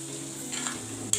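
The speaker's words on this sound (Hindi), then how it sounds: "इसको मिक्स करेंगे और भून लेंगे।" Masala fries in about three spoonfuls of ghee, a short, even hiss of frying with faint stirring and a brief scrape at the end, close up and without talk.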